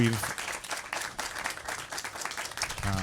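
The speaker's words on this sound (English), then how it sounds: "Everybody, please give a round of applause to Antonia." Audience applause breaks out for a speaker at a talk, a dense wash of clapping held steady for a few seconds, with some voices and musical tones mixed in near the start and end.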